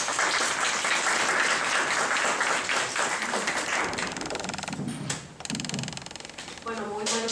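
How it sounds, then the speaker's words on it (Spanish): Audience applause fills a seminar hall on sexual violence legislation in Bolivia as a speaker is welcomed, steady clapping for several seconds that thins out before a voice begins talking near the end. "Un aplauso para ella, por favor."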